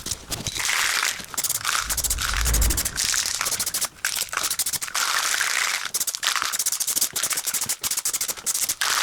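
Continuous rough abrasive scraping with rapid repeated strokes, loud and close: hand sanding of body filler on a Porsche panel before painting.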